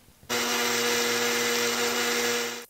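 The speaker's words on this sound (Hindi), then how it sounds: "ग्राइंडर मिक्सर जार में डालकर पीस लेंगे" A mixer grinder jar grinds dried mango pieces into amchur powder, switching on abruptly into a loud, steady, high-pitched whir that holds for over two seconds before easing slightly, close by with no talking.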